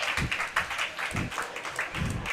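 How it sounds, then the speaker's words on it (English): Audience applause after a very long rally at the racquetball world championship in San Antonio, a steady wash of clapping with a few louder swells across the short stretch. "Everybody's applauding."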